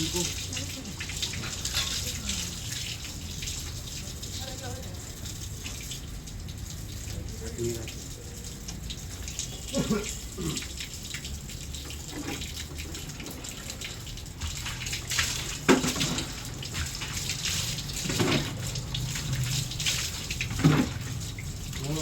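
Water runs steadily from a tap, with clatters and knocks and voices talking in the background throughout.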